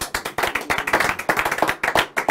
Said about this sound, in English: hopefully to a huge round of applause